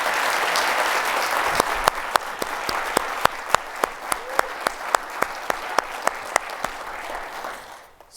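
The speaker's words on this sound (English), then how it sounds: "I want to give her another round of applause for being the strength behind this vision that you see." Audience applause at a launch event, steady clapping from a crowd sustained for about eight seconds before tapering off at the end.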